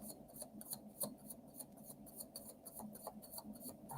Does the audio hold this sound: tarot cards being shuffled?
yes